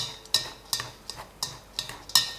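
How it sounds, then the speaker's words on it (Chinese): Chopsticks stirring a chive and pork crackling filling in a bowl, six or seven crisp clicking strokes in a steady rhythm, close and fairly quiet with no talking. "用筷子混合均匀，先锁住韭菜里面的水分"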